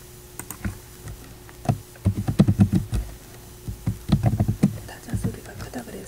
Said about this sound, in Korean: 살살살 타자를 치도록 노력해 보겠습니다.